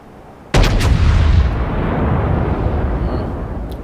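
Main guns of the battleship North Carolina fire in World of Warships, one sudden loud close blast followed by a long rumbling roar that slowly fades.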